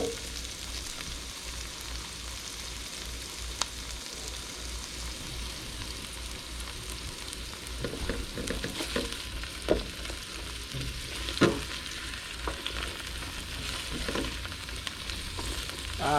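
An onion sautéing in a pan in a home kitchen gives a steady, even sizzle throughout, with a few sharp clinks and scrapes of stirring toward the middle and end.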